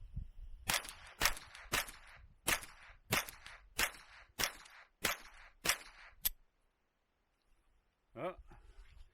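Ten sharp .22lr shots from a Ruger 10/22 loaded with Federal bulk ammunition, fired in a steady rhythm about half a second apart, then quiet and a brief voice at the end.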